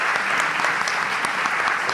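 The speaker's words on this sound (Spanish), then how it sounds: "Un aplauso, por favor," A studio audience applauding on a Spanish program, dense steady clapping from many hands that holds at an even level throughout, with no voices over it.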